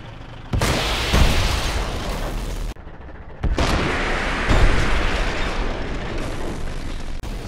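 Anti-tank rocket fire and explosions in the military shooter Project Reality: two loud booming blasts, each followed by a sustained roaring rumble.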